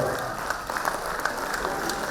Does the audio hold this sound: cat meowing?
no